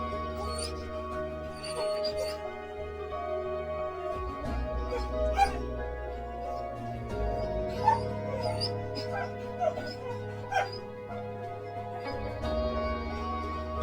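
A pet dog named Toby whimpers and gives short yips, fairly faint, over a steady musical background with no clear talking.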